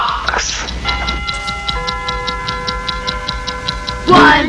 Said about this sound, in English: 8 clocks.